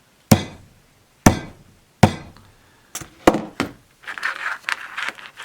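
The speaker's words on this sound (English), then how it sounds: "use your hammer." Three sharp, ringing hammer strikes spaced about a second apart set a rivet into a felted crochet bag, followed by a quicker cluster of taps and some scraping and handling noise.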